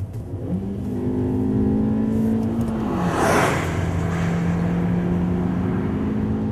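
A Fiat Punto Evo with a 1.4 Multiair engine revs hard to high rpm and pulls steadily. The engine tone rises clearly, dips briefly at a shift and then climbs again, loud inside the car with no talk.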